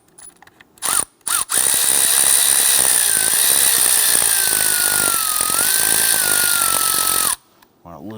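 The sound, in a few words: Torx bit driver removing cam sensor screw, Jeep valve cover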